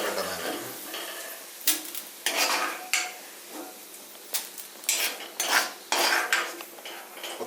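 A spoon scrapes and clinks against a pan while urad dal is stirred and roasted dry in a home kitchen. The knocks are close and irregular, with a light sizzle underneath and no talking.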